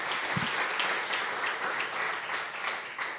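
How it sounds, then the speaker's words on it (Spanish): Steady applause from a church congregation during a Spanish-language worship service, a dense continuous wash of clapping with no voices on top. "Dale un aplauso al Señor"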